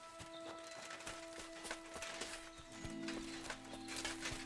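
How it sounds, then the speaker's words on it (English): A horse in the video game Kingdom Come Deliverance 2 clip-clops along with rhythmic hoof strikes, then lets out a sustained neigh toward the end, set over a soft ambient bed. "there's our horse"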